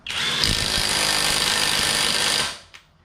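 A SeyVum half-inch impact wrench driving a lug nut, a loud, close, continuous rapid hammering burst of about two and a half seconds that cuts off abruptly, followed by a faint clunk.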